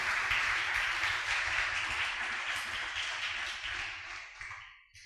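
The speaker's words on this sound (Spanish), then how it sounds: "Dale un aplauso al Señor" Church congregation applauding together, a dense, steady wash of clapping with a low rumble beneath, holding strong before thinning and fading out near the end.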